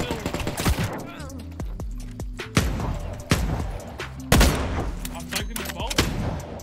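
Gunfire rings out in a firefight in The Cycle: Frontier, a series of sharp, loud shots in uneven bursts spaced a second or so apart, some with echoing tails, over game music and occasional speech.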